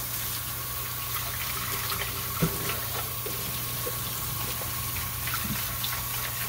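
Dirty water is rinsed out of the mop bin of a Dreametech wet-dry vacuum, a steady running-water wash with a small splash partway through, close and alone without speech.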